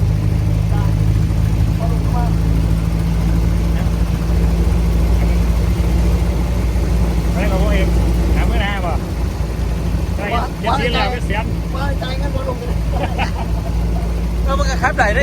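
A vehicle engine idles with a low, steady drone at a house as a car arrives, while several people talk over it throughout.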